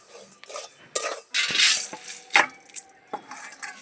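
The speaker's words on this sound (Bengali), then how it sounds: "মুড়িটাকে এইভাবে নাড়তে থাকবেন" A utensil stirs puffed rice in a hot pan as it roasts, making close, irregular scraping and light metallic clinks with a dry rustle.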